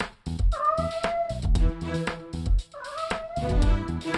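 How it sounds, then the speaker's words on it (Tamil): A wild cat gives two drawn-out, wavering meows at close range, with scattered knocks and bumps between the calls. "ஐயோ, காட்டு பூனை."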